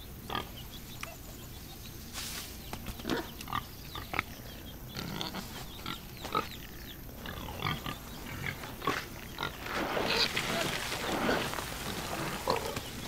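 A pig grunting and oinking in a series of rough, irregular snorts at close range, growing busier and louder toward the end, with no talking.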